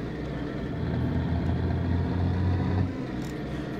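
A Marcopolo Viaggio G4 bus engine in a driving-game mod drones steadily at low pitch, swelling slightly before settling back, close and continuous, with no voices.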